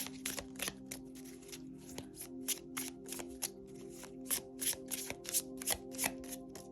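A deck of oracle cards is shuffled by hand in a repeated series of crisp riffling bursts, close and fairly quiet, with no talking.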